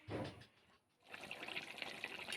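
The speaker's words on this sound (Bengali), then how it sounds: "ভাজার কাঁচা গন্ধ চলে যাওয়ার পর এখন দেব জল।" Water poured into a cooking pan holding potatoes and frying spices, a short gushing splash, a brief pause, then a steady close pouring and bubbling.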